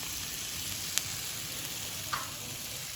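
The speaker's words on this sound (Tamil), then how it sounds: "இப்போ இந்த வெங்காயம் தக்காளியோடு சேர்த்து இந்த வெண்டைக்காய் வந்து ஒரு நல்ல மிக்ஸ் வச்சிடலாம்." Okra frying in a pan with onion and tomato, a steady close sizzle with a couple of brief clinks of a spoon stirring.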